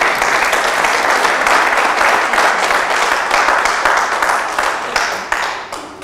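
Church congregation at a sermon on marriage applauding and cheering for the Lord, with dense, loud, sustained clapping and mingled voices that fade slightly near the end.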